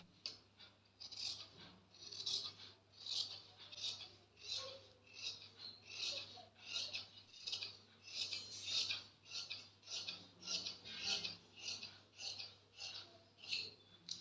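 Scissors snip through dress fabric while a kurti is being cut, a steady run of close, crisp cuts repeating about once a second under a faint low hum.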